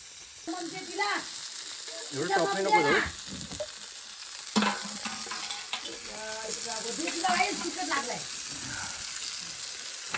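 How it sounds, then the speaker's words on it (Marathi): Kaul frying in oil on a village wood-fired chulha, a continuous crackling sizzle close by with spattering bursts, while people talk over it. "हा बघा आमचा बंधू कौल फ्राय करतायत"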